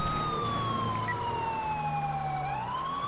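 Police siren wails in a steady, slowly falling tone with a quick rise near the end, with no voices over it. A low road rumble sits beneath, and the siren carries on without a break.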